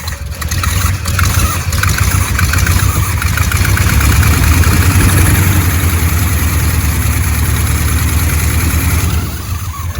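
Engine of a 1968 Corvette idling on a Quadrajet carburetor, a steady, loud, close rumble with a lumpy low throb that holds evenly for the full ten seconds.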